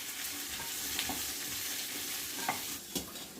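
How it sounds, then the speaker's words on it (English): Ginger, garlic and chili pieces fry in a pan for a restaurant-style soya chunks curry, giving a steady close sizzle with a few sharp scrapes from stirring. "I will also be adding the ginger, garlic and chili pieces into the pan"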